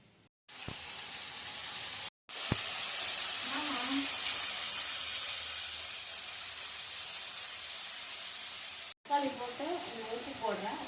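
Tomatoes tipped into a pan of browned crushed garlic set off a loud, steady sizzle and hiss of frying that runs for several seconds, broken by brief gaps, with a voice talking over the final stretch.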